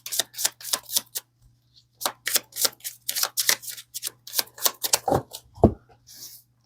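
Tarot cards shuffled close at hand in quick bursts of crisp riffling and slapping, with short pauses between rounds and a faint steady hum underneath, no talk.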